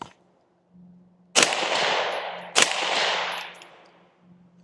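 Two suppressed 5.56 rifle shots from a 13.9-inch barrel fitted with a Rugged Axial suppressor, each a sharp loud crack with a long decaying tail, fired about a second apart with no talk.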